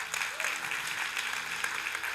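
A church congregation applauds in a steady, moderately distant patter of clapping that lasts throughout, with faint voices mixed in.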